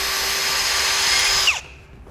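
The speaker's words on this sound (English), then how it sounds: "you want to make sure your drill bit's straight and drill straight down." A power drill bores straight down through the core support of a 2013 Smart fortwo, a loud steady whine that holds, then drops sharply as the bit punches through and the motor winds down.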